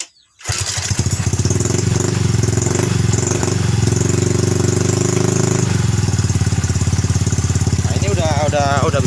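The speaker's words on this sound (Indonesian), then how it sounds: "Nah, ini udah bisa langsam teman-teman ya, motor ya." A Yamaha Mio M3 scooter engine starts and settles into a steady, even idle, loud and close, after a carburetor-area repair of a rough, knocking engine; a voice speaks briefly near the end.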